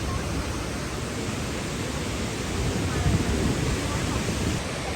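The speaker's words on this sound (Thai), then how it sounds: "บริเวณน้ำตกกวงสีนะครับ" Kuang Si waterfall near Luang Prabang, Laos, roars as a steady, dense wash of falling water, loud and unbroken throughout with no distinct events.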